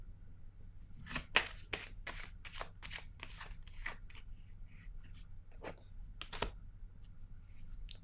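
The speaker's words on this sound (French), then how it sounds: "Là, je vais piger une autre carte ici." Oracle cards being drawn and shuffled, giving a run of soft, crisp card riffles and flicks in uneven bursts over a low steady room hum, close and fairly quiet with no talking.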